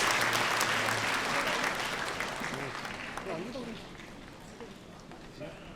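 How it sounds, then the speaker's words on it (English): An audience at a peace commemoration ceremony claps warmly after a congratulatory speech, the applause loud at first and tapering off over several seconds while a voice begins to speak. "Please give him a warm round of applause."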